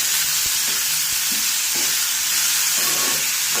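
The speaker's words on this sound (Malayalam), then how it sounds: "എല്ലാം കൂടെ നന്നായി ഒന്ന് ഇളക്കി യോജിപ്പിക്കാം" Chow chow thoran sizzling in oil in a pan as the chopped chayote is stirred, with soft scraping strokes over a steady hiss, close and alone.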